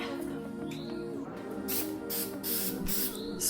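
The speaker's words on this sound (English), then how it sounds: "When spray painting my props, I always recommend to spray long, even strokes" Several short hissing bursts of an aerosol can spraying plastic dip onto a prop, separated by brief pauses, over a faint background hum.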